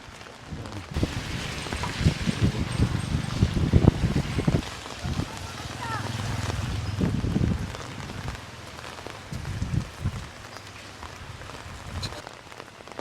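Typhoon rain and gusting wind in Palawan, a constant hiss of rain on surfaces with rumbling, buffeting wind noise against the microphone, heavy and close, with voices faintly talking at times.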